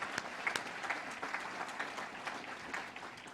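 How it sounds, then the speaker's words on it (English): An audience applauding at the Ventura Chamber of Commerce Poinsettia Awards 2022 ceremony, steady dense clapping from a crowd that holds for several seconds without fading. "I'd like to just take a moment to applaud them for their efforts"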